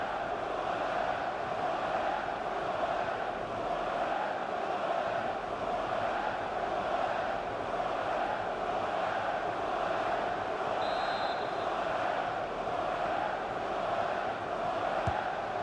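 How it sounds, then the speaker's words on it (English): A stadium crowd at a Seattle Sounders versus Vancouver Whitecaps soccer match, doing a Mexican wave, gives a steady, dense roar of many voices with no clear peaks, continuous and fairly loud throughout. "Mexican wave. Crowd trying to entertain themselves."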